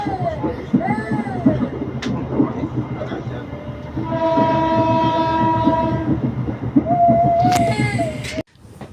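KA Bukit Serelo passenger train at a station stop on the Lubuklinggau–Prabumulih line, with a rumbling carriage, steady mechanical drone and a sharp horn blast near the end, loud and close, amid background chatter.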